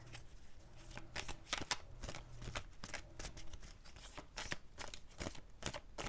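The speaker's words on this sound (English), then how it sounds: "2 more shuffles, please" Tarot cards being shuffled by hand in quick bursts of riffling and sliding, close and crisp, with short pauses between passes and no talking.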